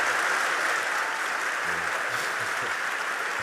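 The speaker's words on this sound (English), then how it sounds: "Mark and Elon, one more round of applause." Steady audience applause fills a live interview event, a dense wash of clapping that holds loud and even throughout with no speech over it.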